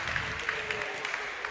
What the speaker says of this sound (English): a well-deserved round of applause. Standing ovation from the Cougar faithful amongst us.